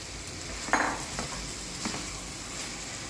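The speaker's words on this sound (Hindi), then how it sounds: "एक से 2 मिनट अब हम इन भिंडियों को फ्राई करेंगे" Fried okra (bhindi) tossed in cooked masala over a medium flame, giving a low, steady sizzle with a couple of clinks and scrapes of a spoon against the pan, close and quiet.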